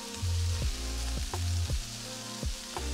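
Butter sizzles and melts on a Blackstone griddle as a thin gravy roux begins, a steady close frying hiss with a few brief scraping stirs and no talking.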